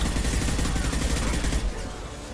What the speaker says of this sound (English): they're using flashbangs